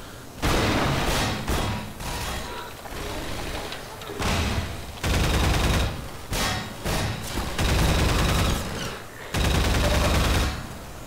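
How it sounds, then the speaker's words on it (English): Pulse rifle fire in Half-Life 2, heavy bursts of automatic gunfire with booming impacts repeating in loud clusters for the whole stretch, separated by brief lulls. "What's this weapon called? A pulse rifle?"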